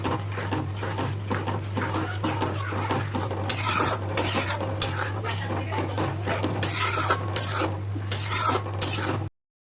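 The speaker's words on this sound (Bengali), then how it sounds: "দই দিয়ে ভালো করে মিশিয়ে নেব।" A spoon stirs whisked sour yogurt into egg curry gravy in a pan, a steady scraping and rubbing with repeated sharp metallic scrapes against the pot, close and clear with no talk.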